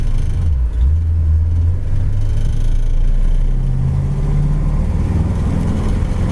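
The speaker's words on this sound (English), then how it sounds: "Motor sounds good." A 1963 Mercury S33 two-door hardtop's engine runs with a steady low rumble, loud and close throughout, with no talk over it.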